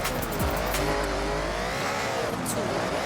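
Car drifting in the Forza Horizon racing game, steady engine roar with sliding tire squeal, loud and continuous, a voice talking over it.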